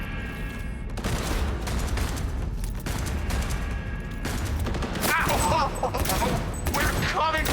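Rapid bursts of video game gunfire crackle and boom in dense fusillades, with metallic mechanical clicks between volleys and voices talking over the action.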